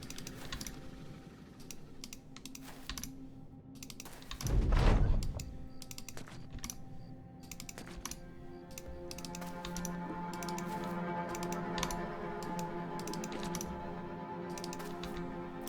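Mouse clicks on map hexes in the strategy game Oathtakers: scattered sharp, close clicks in an irregular rhythm over quiet sustained game music, with one heavier thump partway through.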